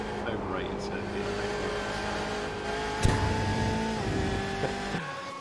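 GTE race cars lapping Silverstone GP in a sim racing game, with steady engine drones whose pitch shifts under gear changes. One car's tone sweeps past, and a voice talks over the cars throughout.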